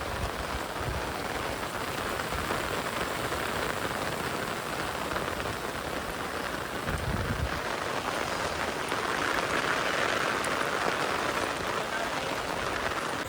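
Heavy rain falls steadily and continuously after a full day of downpour, a constant hiss with soft spatter throughout, occasional low thumps beneath.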